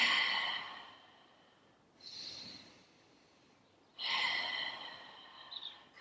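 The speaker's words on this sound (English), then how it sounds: "Couple more deep breaths." Deep breathing during a hatha yoga flow: three slow, airy breaths, long and sighing and close to the mic, separated by near silence.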